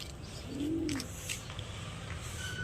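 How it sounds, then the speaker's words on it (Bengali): A pigeon gives a single soft, low coo lasting under a second while being hand-fed, set against steady background noise with faint chirps, and no voices. "এই পায়রাটাকে খাওয়াচ্ছি"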